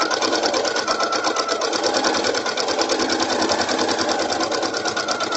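A sewing machine runs steadily, stitching a narrow 1/8-inch seam in fabric with a short 1.8 stitch length, giving a continuous fast whirring rattle at even loudness for the whole stretch with no talk over it.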